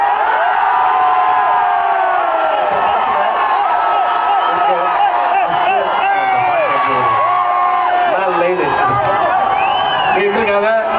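A large crowd at a film audio launch cheers, whoops and shouts loudly and continuously, with shrill voices rising and falling over a dense roar.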